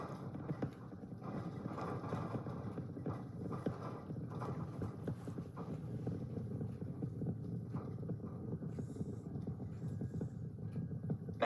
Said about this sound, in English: We're still getting the rattle here at Star Factory.